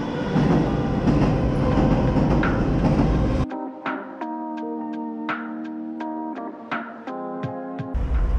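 A Moscow metro train runs across a metro bridge: loud rumbling roar at first, then a steady rolling hum broken by regular clicking rail joints, heard from close by with no talk.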